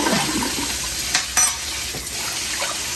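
Water runs and splashes close by while ingredients for a hot toddy, including ginger, are rinsed in a pot, a steady wash of noise with a couple of brief knocks.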